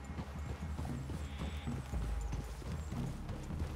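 Horse hooves clip-clop over ground in the video game Red Dead Redemption 2, giving a steady rhythm of soft, fairly quiet thuds under a broad outdoor ambience.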